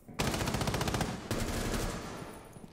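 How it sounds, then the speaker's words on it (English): Bursts of automatic gunfire crackle in a tactical shooter video game, with two rapid strings of shots in quick succession that fade out toward the end. "I shot it."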